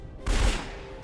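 A single booming cannon blast in Age of Wonders III, a sudden heavy thud with a deep rumble that fades over about half a second.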